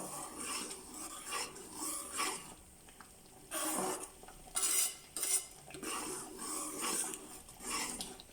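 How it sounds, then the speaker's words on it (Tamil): A spoon scrapes and clinks against a pan while stirring white kesari, a semolina sweet, in repeated close strokes with uneven rhythm. "கைவிடாமல் கிளறி விட்டுட்டே இருந்தால் தான் கட்டிப்படாது"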